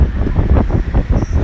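A Lasko 3723 box fan running on medium, giving a steady, close, breathy whoosh of moving air with a soft rhythmic pulsing from the spinning blades.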